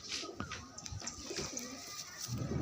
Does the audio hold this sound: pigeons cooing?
yes